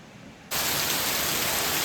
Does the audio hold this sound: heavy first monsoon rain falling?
yes